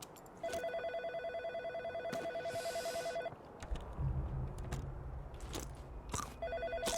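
A telephone rings in the horror video game In Sound Mind, repeated electronic ring bursts in a steady pattern, broken by a low rumble and clunks in the middle.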